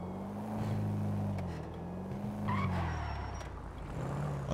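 A car in GTA RP slides across a slippery track, its engine droning low while tires squeal and skid in stretches, heard fairly faint and alone.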